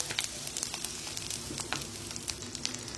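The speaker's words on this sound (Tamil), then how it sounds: "கடுகு பொரிஞ்சிட்டு இருக்குங்க." Mustard seeds, fenugreek and asafoetida sizzle in hot oil over a low flame while a pickle of betel leaf and pirandai is made, giving a close, steady crackle with dense sharp pops throughout.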